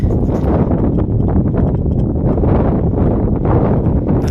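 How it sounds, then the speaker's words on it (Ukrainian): Strong gusting wind buffets the microphone continuously, a loud rough roar with no voices. "Вітер скажений, такие просто невозможно."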